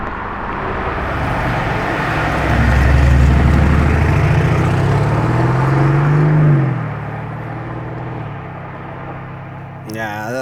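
Lamborghini Revuelto drives past on the road, its engine note building to a loud, close swell as it passes. It then fades into a lower whir as the car pulls away, with voices briefly heard near the end.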